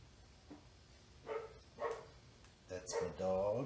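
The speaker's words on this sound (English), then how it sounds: "That's my dog." A pet dog gives a few faint, scattered barks and yips in a home kitchen, mostly under quiet talk, with a louder, longer bark or whine near the end.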